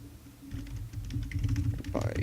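Quick, light keystrokes on a computer keyboard tap out a message in StarCraft 2 chat, a close rapid patter running beneath steady in-game background sound.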